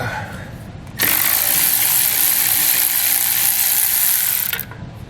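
A ratchet wrench with a 5/8 socket spins off the four nuts on a trailer brake hub, a dense continuous clicking that starts abruptly, runs steadily and close for several seconds, then stops.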